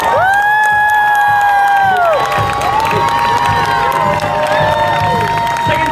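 A street performance crowd at the Edinburgh Fringe cheers and whoops loudly and continuously, with shouts rising over the noise and a performer's voice briefly heard.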